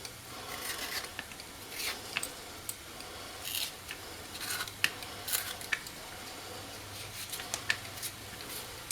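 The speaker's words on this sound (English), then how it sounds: "it's a real hard skin. So we're going to use a potato peeler to" A potato peeler scraping the hard skin off an acorn squash, quiet repeated rasping strokes in an irregular rhythm, close by.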